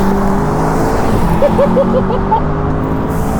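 A modified VW Golf GTI TCR (MK7.5) hot hatch revs hard and accelerates in second gear, a steady loud engine roar building close by with no talking.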